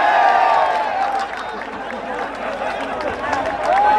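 A large outdoor crowd at a political rally and public meeting claps and cheers to welcome a speaker, a dense, steady roar of applause and voices that fills the whole stretch.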